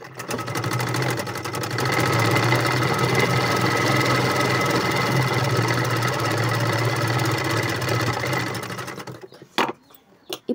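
Sewing machine stitching blouse cloth, a loud, steady mechanical whirr held close for about eight seconds, then slowing to a stop, followed by a few faint clicks and handling sounds.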